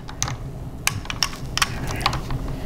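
Bolt-action rifle being worked by hand, a quick series of sharp metallic clicks and clacks close up, several distinct mechanical snaps over a couple of seconds with no talk.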